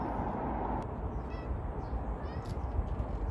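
Cats meow nearby outdoors, a couple of short faint meows and a brief chirp buried under heavy wind and rumbling background noise, without speech.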